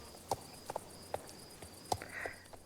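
The horse Ember Dream's hooves in Star Stable Online land in a handful of irregular, fairly faint clip-clop footfalls, with short gaps between the strikes.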